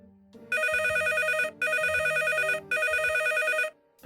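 A telephone rings three times in long electronic trilling bursts separated by short pauses, clear and moderately loud.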